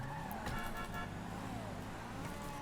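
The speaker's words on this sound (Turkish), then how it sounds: "korna çalıyor ya ben de korna çalıyorum" A car horn toots in GTA 5 Online over a steady engine hum and road noise, the honks blending into continuous traffic sound.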